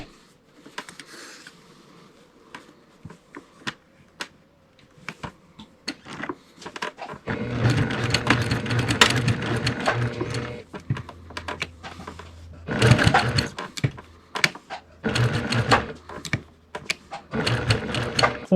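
A sewing machine stitches a Sunbonnet Sue quilt appliqué in several loud, rapid bursts of running stitches, separated by short pauses and lighter tapping and handling noises.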